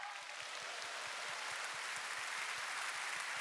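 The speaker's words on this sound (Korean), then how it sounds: "감사의 박수 같이 한번 쳐볼까요" A seminar audience claps together in a steady, even rhythm, fairly faint and distant, with no talk over it.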